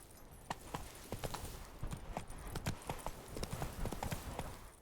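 Hooves of the horse Roach in The Witcher 3, a quick run of clip-clop hoofbeats in uneven galloping clusters, soft and fairly close.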